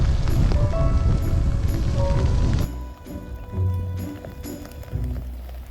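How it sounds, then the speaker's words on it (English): Rain falling during a wet cycling trip toward the Scottish Highlands, a dense hiss of rain and spray that drops off sharply partway through, leaving quieter patters and scattered knocks. "Today is much rainier than yesterday."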